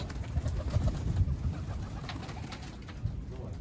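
Low, soft pigeon coos repeat in a gentle rhythm, close by, over a faint outdoor hum.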